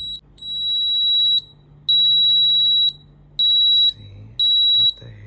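Loud, piercing electronic beeping inside a dark apartment in Thailand, sounding in four long steady tones of about a second each with short gaps, while a low hum continues underneath.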